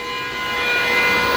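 Glowforge laser cutter fan roaring loudly like a jet engine, a steady close whirring drone with sharp tonal whine, no voices.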